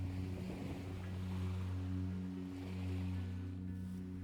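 Passing ships on the River Elbe in Hamburg, heard as a steady low engine drone with a tonal hum and faint wind and water wash at a riverside beach, continuous throughout without speech.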